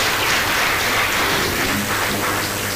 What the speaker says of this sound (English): I think we need a clap